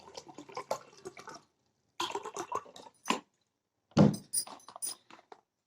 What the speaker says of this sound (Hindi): ये मैंने दोनों ग्लास लिए है और दोनों ग्लासों में मैं पानी, सिंपल पानी डाल रही हूँ।